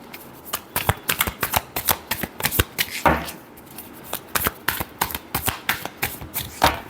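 Tarot cards are shuffled in a quick, crisp run of riffling flicks and taps, close and clear, with a brief pause midway.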